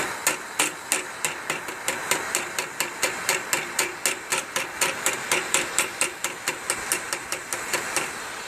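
A ball peen hammer strikes aluminum angle being bent over wood in a steady, even rhythm of about three blows a second, each a sharp, close metallic tap, with no talking.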